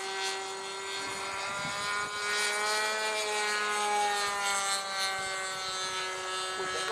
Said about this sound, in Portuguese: aqueles aviãozinhos da Alasca